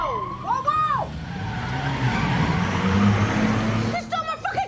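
A car in a film scene speeds off with tires screeching and skidding, rising engine noise under shouted voices, ending with a short squeal.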